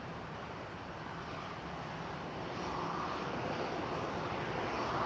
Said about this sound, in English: Wait, is this an Embraer? Look at the windows.